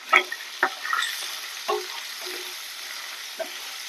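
Small nethallu fish frying in oil in a pan, giving soft intermittent crackles and spatters with a few sharper pops in a quiet kitchen.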